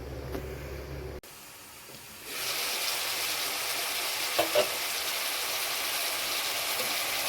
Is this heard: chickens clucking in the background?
no